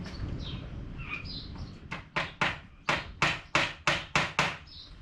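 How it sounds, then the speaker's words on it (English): Very fine pins being hammered into wood to join boat pieces, a run of about nine sharp, evenly spaced taps in the second half, close and distinct, preceded by quiet bird chirps. "Don't hammer them all the way down"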